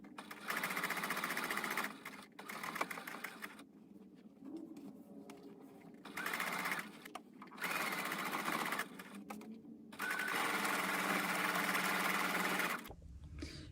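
Sewing machine stitching the seams of a quilt star block, steady rapid needle clatter in several bursts separated by short pauses, close and fairly quiet.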